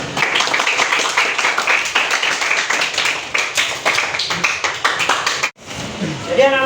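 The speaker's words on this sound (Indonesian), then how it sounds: "Mari kita berikan aplaus untuk semua kelompok." Classroom of students clapping together for student groups, a dense, sustained burst of applause close by that cuts off abruptly near the end, followed by a brief voice.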